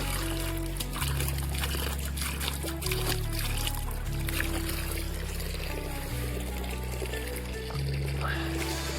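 Cold mountain water trickling and splashing at a roadside stop in the Himachal Pradesh mountains, a steady close, continuous flow with a low droning hum beneath, no talking.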